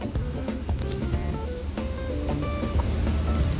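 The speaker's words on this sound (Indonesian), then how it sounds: "Lalu kita lubangi menggunakan jangkar pula," Hand drill boring a hole in a tin can while making a small cotton candy machine, a close, loud, steady grinding whir with a wavering mechanical tone and no speech.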